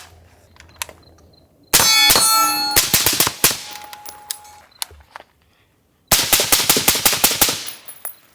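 A suppressed, modernized .45-70 lever action rifle fires in two loud bursts of sharp metallic clanging, each shot followed by rapid ringing spring rattles and clicks, with near silence between bursts.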